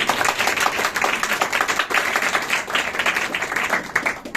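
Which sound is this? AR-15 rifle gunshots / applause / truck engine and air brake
applause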